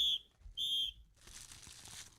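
Two short, shrill blasts of a halftime whistle blown close by, one brief and one longer, followed by soft rustling and faint room noise.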